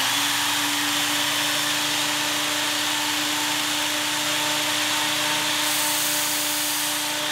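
A Work Sharp Ken Onion sharpener runs steadily at full speed, its belt grinding a chisel bevel with a constant loud whir and abrasive rasp that holds from start to finish, with no talk.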